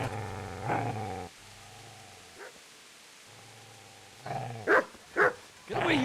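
A dog in the medieval video game Kingdom Come: Deliverance gives low rumbling growls broken by pauses, then a few sharp barks near the end, close and moderately loud.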